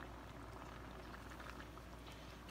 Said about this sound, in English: As we can see, it's come to a nice boil.